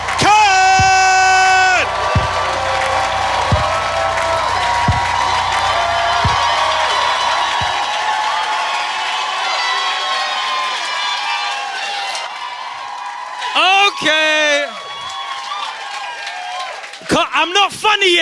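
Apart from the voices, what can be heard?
stand-up comedy audience cheering and clapping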